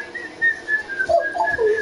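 A person whistles a wavering, sliding tune, the notes rising and falling over a low rumble of background noise with no talk.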